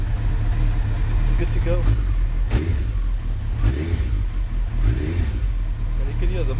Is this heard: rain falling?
no